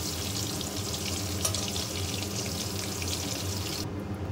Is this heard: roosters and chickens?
no